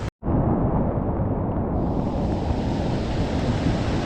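A flooded river rushes through Kullu Manali after heavy destruction, a loud continuous roar of churning water and wind buffeting that starts abruptly after a brief silence and stays powerful throughout.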